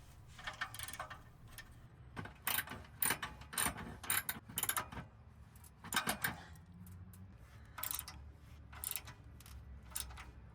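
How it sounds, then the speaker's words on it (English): A ratchet tightens the rear catalytic converter bolts under a Honda S2000, giving repeated quick clicking bursts with short pauses between strokes, close and clear. "now I'm going to tighten down the 3 bolts at the rear of the catalytic converter"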